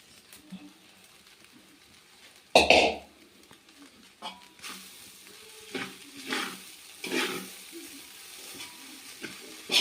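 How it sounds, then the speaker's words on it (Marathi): Poha being stir-fried in a pan over a wood-fired stove, with a sudden loud scrape or clatter near the start followed by repeated softer scraping strokes over a steady frying sizzle, close by. "ते खालून लागू नयेत म्हणून पूर्णपणे परतून घ्यायचे."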